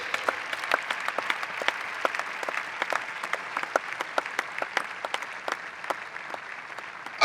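A church congregation clapping steadily for the Lord, continuous applause with sharp individual claps standing out close by.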